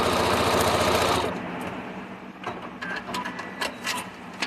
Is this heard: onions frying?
no